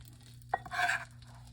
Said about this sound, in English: You see how that butter's sizzling?